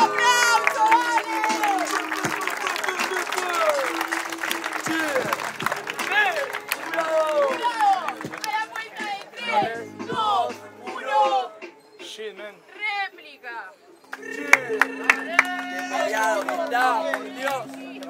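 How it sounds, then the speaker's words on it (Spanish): A crowd at a freestyle rap battle claps, whoops and shouts, loud and close, with excited voices surging and dipping before a final burst of noise. "¡Un aplauso, dale!"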